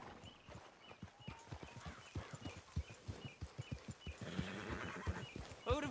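A horse in Red Dead Redemption 2 whinnies once early on while its hooves clip-clop in a steady, close rhythm throughout, the gait quickening and growing louder toward the end, with no talking.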